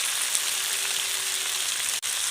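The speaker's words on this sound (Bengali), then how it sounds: "আলুটা দিয়ে ভালো করে একটু কষিয়ে নিচ্ছি" Potatoes fry in a pan, giving a steady loud sizzle with a brief clatter near the end and no voices.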